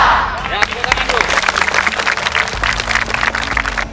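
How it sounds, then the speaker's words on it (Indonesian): Students at a vocational high school assembly clap their hands together, a loud, dense burst of applause that carries on for several seconds, with brief voices near the start. "tepuk tangan dulu"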